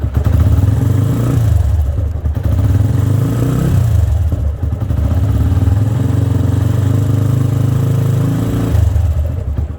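A self-start motorcycle engine runs loud and close, revving up and dropping back in a few repeated swells of throttle.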